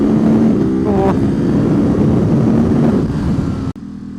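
Ducati SuperSport motorcycle pulling hard through third and fourth gear on a track, a loud close engine drone rising in pitch with a brief gap at a shift, then cutting off abruptly near the end.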